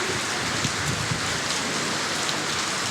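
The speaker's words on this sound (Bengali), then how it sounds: "আমাদের নারায়ণগঞ্জে প্রচুর পরিমাণ বৃষ্টি, যেমন বৃষ্টি তেমন বাতাস," Heavy rain driven by wind in Narayanganj, a dense, even hiss of downpour close by, constant and loud across the whole stretch with no talking.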